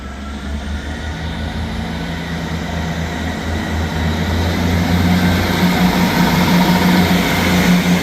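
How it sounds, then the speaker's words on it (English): A ScotRail train departs Edinburgh Gateway station bound for Edinburgh Waverley, its loud, steady rumble and engine drone building gradually as it pulls away nearby. "Departing out now is the 1208 ScotRail service from Leaving to Edinburgh Waverley."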